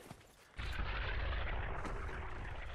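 A cannon fires a high-explosive shot in the Red Orchestra video game, a single heavy report that breaks a quiet moment and lingers as a broad, rumbling roar to the end.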